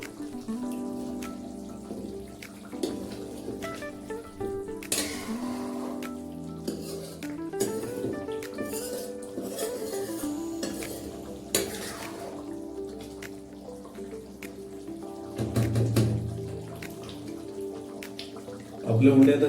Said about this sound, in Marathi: आता याला उकळी यायला चालू झाली आहे